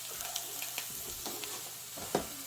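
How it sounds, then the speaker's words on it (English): Sausage frying in a pan over medium-high heat gives a steady, soft sizzle with scattered crackles and pops, plus one louder spatter near the end, close by and with no talking. "just getting your sausage cooked. I've got my pan set to medium-high heat."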